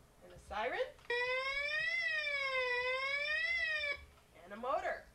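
A toy siren wails for about three seconds in a steady electronic rise and fall, with brief speech just before and after.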